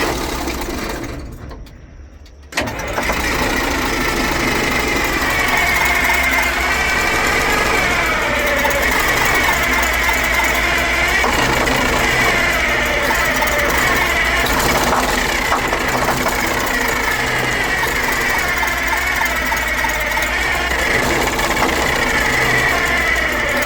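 A stubborn Detroit Diesel engine fires up after a brief near-silent moment, then runs loud and steady with a rough, knocking clatter and vibration for the rest of the stretch, no voices.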